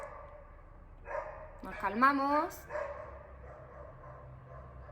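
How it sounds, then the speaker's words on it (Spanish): Neighbours' dogs bark in a short burst of a few yelping barks near the middle, moderately distant, over a quiet background, while a person speaks briefly. "Los perros de los vecinos han decidido ponerse a ladrar ahora que estoy grabando el vídeo."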